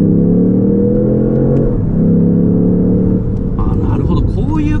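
A Lexus LBX Morizo RR or GR Yaris RZ High Performance engine drones loudly from inside the cabin on a circuit, holding a steady pull and then shifting pitch partway through as it accelerates.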